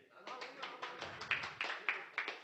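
Audience applause at a gathering of an association, a short run of quick, fairly evenly spaced claps that sound like only a few people clapping, faint and close.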